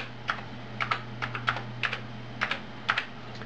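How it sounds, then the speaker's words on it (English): Computer keyboard keys tapped one at a time to enter a network start command on an Amiga, about fifteen close, crisp clicks in short uneven clusters over a faint steady electrical hum. "I'm just gonna type start net and hopefully there's no errors"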